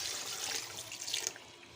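Water poured from a tap or jug into a pot of mutton for yakhni pulao, a steady broadband splashing rush for most of the time that thins out toward the end, close and moderately loud with no talk.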